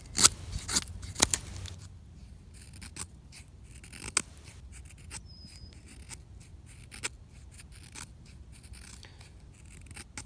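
A Victorinox Trekker knife carves wood, with a few sharp cutting scrapes and snicks in the opening seconds, then sparse, quieter scraping strokes close by.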